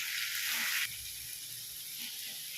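Mint and coriander sauté in a pan, giving a steady close hiss of sizzling that is louder for the first second, then settles into a quieter, even fry with no talking.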